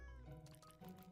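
A cat in Minecraft gives a short, faint meow, a single brief call lasting about a second with quiet background sound.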